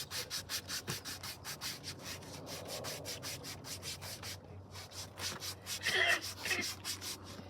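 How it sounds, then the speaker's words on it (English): Medium voltage cable insulation is scuffed with an abrasive in fast, even back-and-forth strokes. The rhythmic rasping is soft and close, with no talk. "the reason why we're scuffing it is I want the resin to cure and hold on to it real good"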